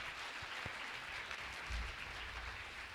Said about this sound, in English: Give it up for Mary Bird.